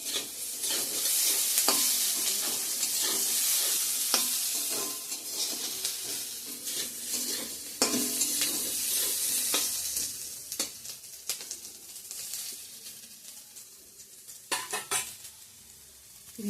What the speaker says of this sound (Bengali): এখন এদিকে আলু ভাজাটা করে নিচ্ছি।